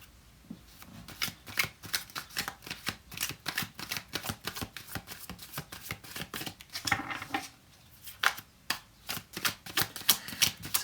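Tarot cards are shuffled close to the microphone, a quiet stream of crisp riffling flicks and soft slaps in uneven bursts, alone without talk.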